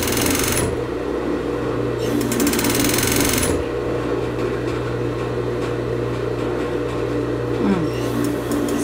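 A domestic sewing machine stitching knit fabric for a basic top, with fast rhythmic mechanical whirring in bursts that stop and restart, steady motor hum beneath and a voice speaking nearby.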